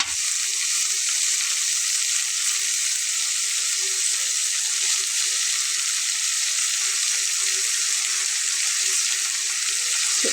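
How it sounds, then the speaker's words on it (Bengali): Potato pieces frying in a generous amount of mustard oil, browning for a Bengali fish and lentil dish; a steady, loud, close sizzle holds throughout with no talk over it. "একটু সময় নিয়ে আলুটাতে একটু লালচে রং ধরিয়ে নেওয়া পর্যন্ত ভেজে নিতে হবে"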